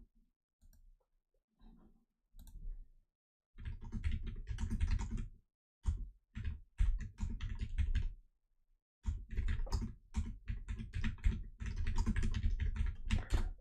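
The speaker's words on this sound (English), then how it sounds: "So the keyboard's loud." A loud computer keyboard clatters in bursts of rapid typing, with short pauses between flurries of sharp, close key clicks.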